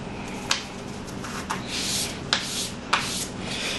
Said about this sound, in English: here's some 600 grit. That'll get it even finer polish on it.